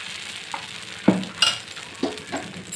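Spinach dosa in oil on a pan, a soft background sizzle broken by a few sharp scraping taps of a spatula, close and with no speech.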